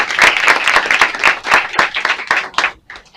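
An audience at a smart-mobility talk applauds the speaker, loud close individual claps in a quick uneven rhythm that thin out and stop.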